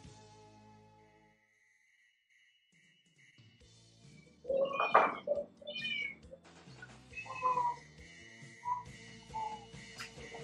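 A cat meows several times in short, clear calls, fairly close, after a quiet stretch, with light background noise between the cries.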